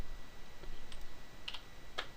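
Light typing on a computer keyboard at a Linux terminal, a handful of soft scattered key clicks with a couple of sharper taps near the end, close and quiet with no talk.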